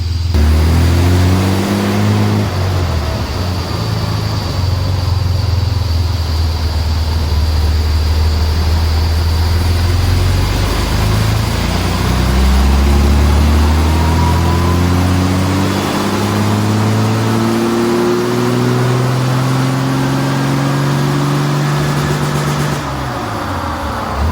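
A loud vintage off-road wrecker truck engine climbs steadily through its revs on a dyno for over twenty seconds, droning and whining as it winds up under load, then drops off at the end.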